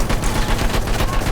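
Rapid machine gun fire in the video game Battlefield 1, loud dense bursts of gunshots rattling close with no pause, no voices heard.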